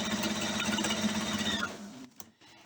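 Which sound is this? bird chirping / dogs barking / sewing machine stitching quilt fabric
sewing machine stitching quilt fabric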